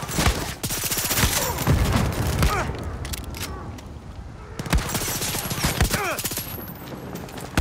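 Gunfire from a weapon in the video game Far Cry 6, bursts of rapid shots in a loud, dense fusillade with mechanical clatter and explosions, pausing briefly around the middle before resuming.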